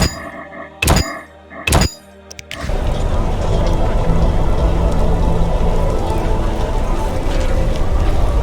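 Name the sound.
rain in a video game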